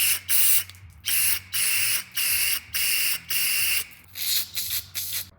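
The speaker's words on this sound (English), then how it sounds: "I like to spray in and spray out." Repeated hissing bursts of aerosol cleaner sprayed into a Troy-Bilt Storm snowblower carburetor, about ten short blasts in steady rhythm, close and loud with brief pauses between.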